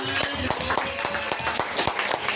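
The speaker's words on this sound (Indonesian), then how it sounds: "Keren banget, tepuk tangan teman-teman semua." An audience of participants claps at a training session, a steady run of close, evenly spaced claps blending into a loud, continuous applause with no talk.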